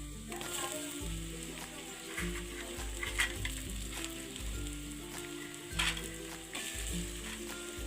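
Spices and tomato fry in a pan, a soft continuous sizzle with repeated stirring scrapes and clinks at an irregular rhythm, quiet and close, with no talking.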